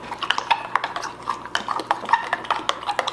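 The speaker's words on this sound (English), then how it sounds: "And you want to mix this up really well." A spoon stirs a rhubarb, strawberry and applesauce popsicle mixture in a bowl, producing quick, close clinks and scrapes against the sides in an uneven, busy rhythm, with no talking.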